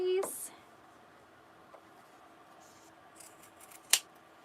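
Scissors, not fabric scissors, snip through webbing nearby, with a short cut at the start and a sharper snip later, amid quiet room noise.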